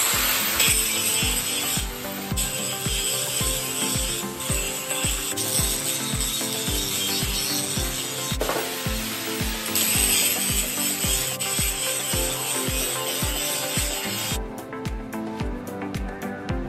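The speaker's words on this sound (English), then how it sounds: "Now proceed to grinding." A metal bar being ground for a homemade flat and round bar bender, a loud, steady mechanical rasp with regular rhythmic pulses running throughout and a brief change in tone near the end.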